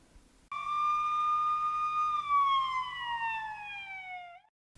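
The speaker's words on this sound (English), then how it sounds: "Your wife hears the sirens approaching." A single siren wails loudly and steadily, its pitch sliding slowly downward before cutting off, with a low hum underneath.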